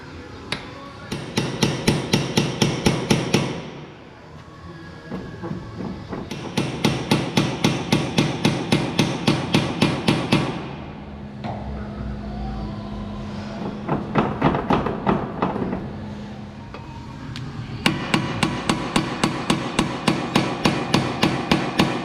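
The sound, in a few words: hammering to separate a Honda Civic ball joint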